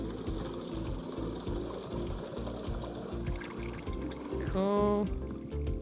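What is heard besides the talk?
filling a kettle with water in video game Wanderstop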